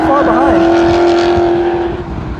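Corvette C7 race car running on Sonoma Raceway at a track day, a loud sustained engine drone with a rising whine, close and steady, with a voice talking over it.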